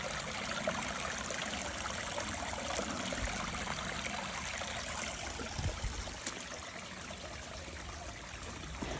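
Rainwater running like a creek down a flooded hiking trail on the Appalachian Trail in New York, a steady close trickling and gurgling flow with no speech.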